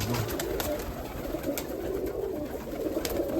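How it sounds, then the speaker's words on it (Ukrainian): Pigeons coo softly in low, throaty murmurs, a continuous cluster of birds heard fairly close amid faint background noise. "Сьогодні ми просто кормимо голубів"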